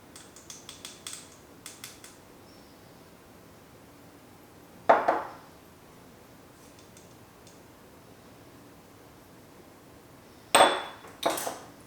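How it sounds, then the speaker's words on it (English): Ingredients for a fattoush salad dressing are mixed in a bowl. A spoon or whisk makes light rapid taps, then two louder clattering bursts of utensil against bowl follow, with quiet gaps in between and no talk. "And now let's mix all the ingredients together."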